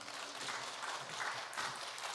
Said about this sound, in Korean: 할렐루야로 하나님 앞에 영광의 박수 올려드립니다.